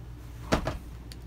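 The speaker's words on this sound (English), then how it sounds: "these doors close for privacy" Cabinet doors in a 2008 Dutchmen 26B-DSL travel trailer swing shut, giving two quick close-up knocks about a tenth of a second apart against a quiet room.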